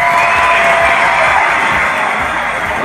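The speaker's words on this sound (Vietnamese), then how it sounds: "Xin một tràng pháo tay của toàn thể quý vị để cùng chúc mừng." Loud, sustained cheering and applause from a crowd at a Vietnamese engagement ceremony in Thanh Hóa, a dense continuous roar of voices and clapping that holds steady throughout with no speech over it.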